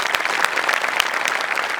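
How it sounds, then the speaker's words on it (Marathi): A studio audience at a Marathi television comedy show bursts into loud, dense applause, with rapid overlapping claps filling the whole short stretch close and evenly. "त्यांच्यासाठी एकदा जोरदार टाळ्या."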